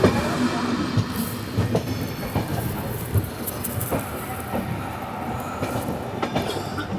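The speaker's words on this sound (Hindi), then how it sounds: "अभी हमारी ट्रेन क्रॉस करने जा रही है सबकतला रोड जंक्शन" The Capital Express 13247 rolls between Kamakhya and Siliguri near Samuktala Road Junction, a steady close rumble with rhythmic clicks of wheels on rail joints and a faint hiss throughout.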